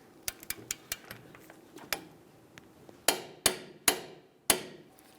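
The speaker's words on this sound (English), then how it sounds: "now we can torque the lower nut to 111 foot-pounds" A torque wrench tightens the lower nut on the rear knuckle of a 2002-2005 Ford Explorer, giving a run of sharp, close metallic clicks that grow louder and more spaced toward the end.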